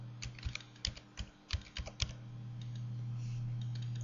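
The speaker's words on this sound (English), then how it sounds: "you can simply type it in" Computer keyboard typing in bursts of irregular clicks for about two seconds, close and moderately quiet, over a steady low electrical hum that continues after the keys stop.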